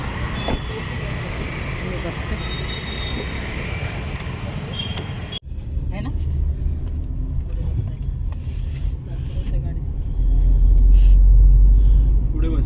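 Steady low engine rumble and road noise from inside a car carrying shopping home after a D Mart trip, a muffled thump midway and the drone growing heavier toward the end, with no talk over it.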